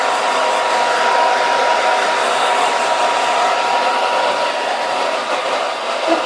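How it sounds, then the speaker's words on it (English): A hair dryer blows steadily and loudly throughout while hair is being blow-dried, a continuous close whooshing roar with no voices. "you literally scoop over the other way and blow dry it that way"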